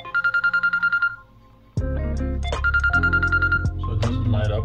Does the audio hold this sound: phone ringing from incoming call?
yes